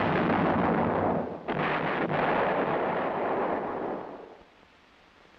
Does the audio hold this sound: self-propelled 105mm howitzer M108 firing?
yes